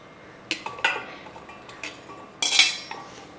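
Cooled cauliflower pieces for gobi manchurian being moved into a bowl, with several sharp clinks and clatters of utensil against metal dishware, close and moderately loud, scattered over a few seconds.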